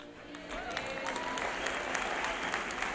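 An audience applauds at a church gathering, a steady wash of many hands clapping at moderate distance, with a voice faintly audible over the crowd.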